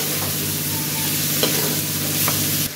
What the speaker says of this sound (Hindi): आलू मैंने बॉईल करके थोड़ा सा नमक डाल के बॉईल किया हुआ है। हल्का सा इधर भी फ्राई कर लेंगे।